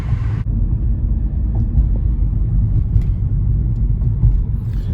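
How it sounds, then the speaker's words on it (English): A go-kart engine runs steadily, a continuous low rumbling drone that holds for several seconds without a break, with a short burst of higher noise at the start. "The go-kart's still going."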